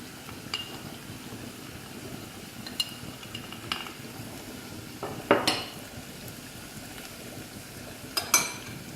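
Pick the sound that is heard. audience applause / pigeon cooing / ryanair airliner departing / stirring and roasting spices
stirring and roasting spices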